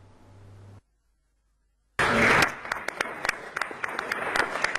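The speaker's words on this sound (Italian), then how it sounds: "Un applauso liberatorio" Applause at the International Olympic Committee session in Buenos Aires as Cortina-Milano is chosen, bursting in loudly after a short silence and settling into scattered sharp claps that continue to the end.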